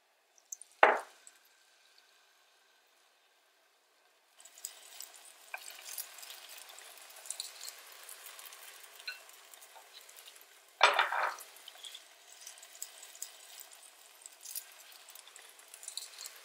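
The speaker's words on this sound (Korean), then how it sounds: "파 오일 두르고 스푼씩 떠가지고 부치면 돼" Jangtteok batter spooned into a pan slicked with scallion oil, a sharp clatter at the start, then a steady soft sizzle of frying broken by a second utensil knock midway, with no voices.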